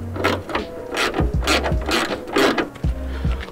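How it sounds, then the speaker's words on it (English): Ratchet clicking in quick bursts while loosening the hood bolts on a Subaru BRZ during a carbon fiber hood install, close and distinct with short pauses between strokes. "there's two bolts here. You're gonna unscrew those."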